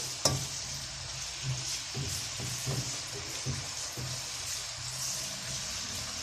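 Onion fries in ghee with a little oil, a steady soft sizzle with occasional stirring knocks and scrapes of a utensil in the pan, close up with no speech.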